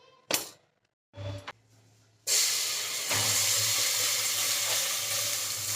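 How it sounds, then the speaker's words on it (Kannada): Chicken being tempered in a hot pan for sambar, a loud steady sizzle and hiss that starts abruptly after a couple of short bursts of clatter and continues unbroken. "ಒಗ್ಗರಣೆ ಹಾಕ್ತೀನಿ ಚಿಕನ್ನ."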